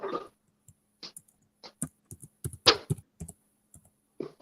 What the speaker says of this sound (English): I'm typing something right now.